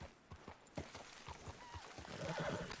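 Hooves of a black horse in the Red Dead Online video game, with quiet, steady clip-clop steps in an even rhythm, faint and under a light background.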